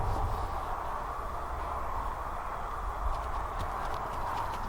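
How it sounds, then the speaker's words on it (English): A horse walks with a steady clip-clop of hooves, continuous and moderately close over a constant broadband background hiss. "What a beautiful horse."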